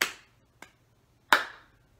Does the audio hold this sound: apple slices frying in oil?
no